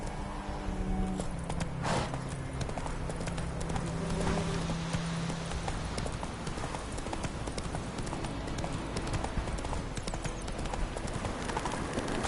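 Roach, a horse in The Witcher 3, gallops with steady, continuous hoof clip-clops filling the whole stretch, close and moderately loud, with a brief low murmur of game sound early on.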